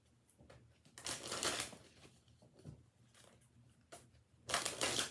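Tarot cards shuffled by hand during a Virgo love reading, riffling in several bursts with quieter rustling between, the loudest burst near the end, close up with no talking.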